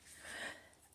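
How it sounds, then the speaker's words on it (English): A loud, forceful exhale of lion-like yoga breathing done to clear the throat, one breathy, rasping rush that swells to a peak midway and then fades, heard close up with no talking. "I learned it was a yoga technique. It helps you clear your throat."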